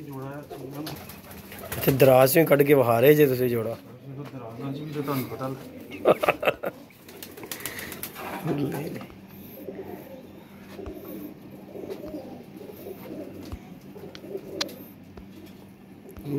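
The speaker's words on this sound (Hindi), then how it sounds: "ये जी इनके कबूतर हैं, ये चेक करने" Pigeons in a fancier's loft coo in low, soft rolling calls, louder early on, beneath steady conversation between men.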